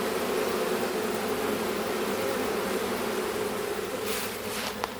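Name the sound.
buzzing honeybee colony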